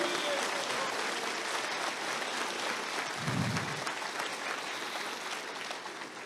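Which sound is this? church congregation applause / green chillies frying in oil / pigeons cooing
church congregation applause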